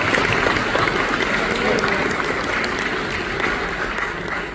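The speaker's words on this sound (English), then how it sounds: "So give him a round of applause" Audience applause at the Cultural Roots 45th anniversary show, a dense, steady wash of clapping that holds loud and continuous with crowd noise underneath.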